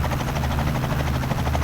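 Steady, loud helicopter rotor and engine drone from Microsoft Flight Simulator, a continuous close-up whirr with no talking.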